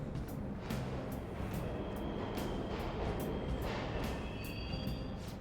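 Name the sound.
subway trains running in the video game Persona 5 Royal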